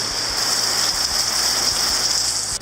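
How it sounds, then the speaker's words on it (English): Steady, dense rain patters loudly and continuously, with a bright hiss and faint rhythmic mechanical ticking underneath. "it's just started raining."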